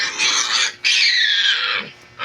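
Pigs squealing in a pig pen where a sow has five-day-old piglets: two long, loud, high squeals close by, separated by a brief pause, with a shorter cry at the end.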